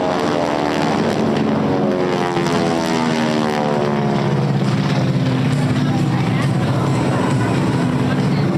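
Vintage 1940s propeller warbirds fly an in-trail barrel roll at a beach air show, a loud, continuous, throbbing piston-engine drone that holds steady throughout.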